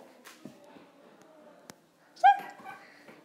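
Dog playing with a rope, giving a soft whimper, then a short, sharp yip-bark up close, with scattered light clatter and a person speaking at a low level.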